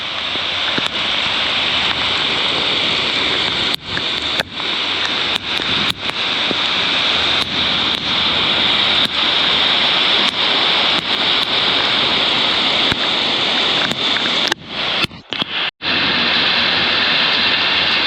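Steady rain pours at an outdoor community-built truck show, a loud, continuous broadband hiss with no break, punctuated by scattered sharp taps and a few brief dropouts near the end.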